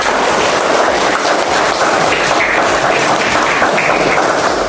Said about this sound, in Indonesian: Tepuk tangan untuk anak kelas 6